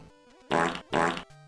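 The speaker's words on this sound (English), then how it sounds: "Ryan's farting." Two loud, buzzy fart bursts of about a third of a second each follow one after the other, set among soft musical tones, with no talk.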